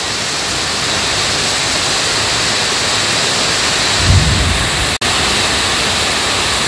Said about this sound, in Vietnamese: Rồi mưa quá trời mưa.